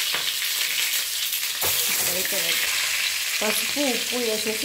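Eggs fry in hot oil in a kadai for egg biryani, a constant close crackling sizzle with occasional spatula scrapes, while someone talks over it.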